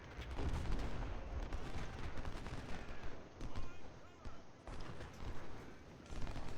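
Civil War artillery fires canister shot in the Ultimate General: Civil War video game amid a continuous, fairly faint din of battle gunfire, with a voice talking over it.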